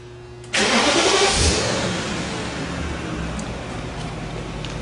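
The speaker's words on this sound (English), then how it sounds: "so we're going to start the vehicle." A car engine cranks and fires abruptly, flares briefly, then settles into a steady idle, loud and close, with no talking.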